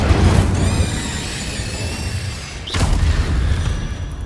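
A fire spell, Incendio, cast in the game Hogwarts Legacy: a steady roaring whoosh of flame with a bright sizzling tone, a dip, then a second burst near the end, with a low booming rumble underneath.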